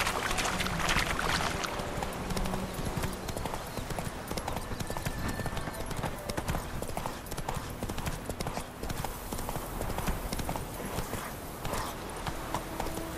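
Geralt's horse Roach galloping in The Witcher 3, rapid rhythmic hoofbeats pounding steadily and close, with game ambience underneath and no talk.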